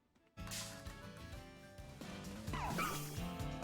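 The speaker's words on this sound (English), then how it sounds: "Ah, the puppers. They're so cute." Puppy Pokémon in Pokémon Scarlet/Violet giving a few short yipping barks near the end, sitting over steady background game music.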